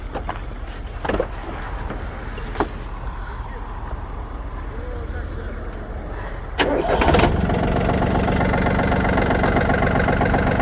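A Yanmar F200 mini tractor with loader sits quietly at first with small knocks. Then its diesel engine cranks and catches, settling into a loud, steady, close idle through the final seconds.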